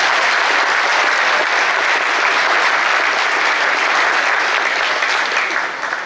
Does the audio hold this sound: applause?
yes